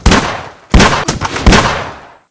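Heavy gunfire from a minigun in the Battlelands Royale video game comes in three loud, sharp bursts, each one decaying quickly before the next.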